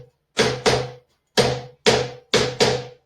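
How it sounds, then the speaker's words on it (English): A cajon struck on the side near the top gives lighter, snappier pops, close and solo, arriving in pairs with short gaps between them. "If you hit it on the side up here, you get a lighter popping sound."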